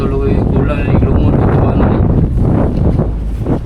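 Strong wind at sea buffets and roars across the microphone in continuous gusts, with a fishing boat's low rumble underneath.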